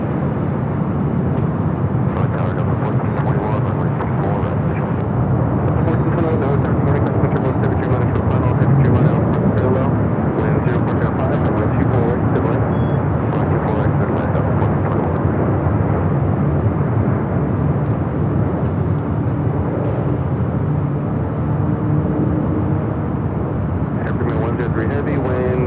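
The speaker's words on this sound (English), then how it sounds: "We do have that Japan Airlines Dreamliner now short final" A Japan Airlines Boeing 787 Dreamliner on short final into Los Angeles, its engines a steady, moderately distant roar throughout, with people talking over it.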